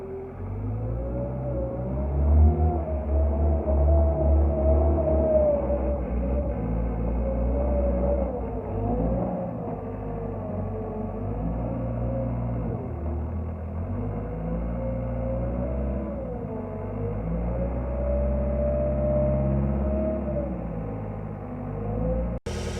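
A big service truck engine idling and running steadily after a hard start, a deep rumbling drone with its pitch wavering up and down as the throttle varies, close and continuous with no talk over it.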